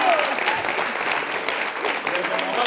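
A studio audience at a Colombian television talk show breaks into applause, a fairly even wash of clapping with a voice speaking under it.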